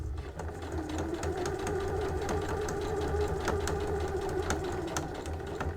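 A sewing machine stitches fabric toward a corner for fabric gift wrap, a steady close whirring with a rapid needle rhythm running throughout without a break.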